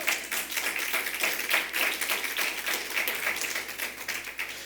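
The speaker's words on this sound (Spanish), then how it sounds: "Dele palmas al Señor." Church congregation clapping hands in praise during a Spanish-language service: a fairly quiet, steady run of rhythmic claps with no voices.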